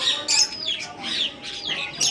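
Young parrot chicks chirp indoors in a room. Thin, high tweets repeat in quick, overlapping bursts at close range, with no voices.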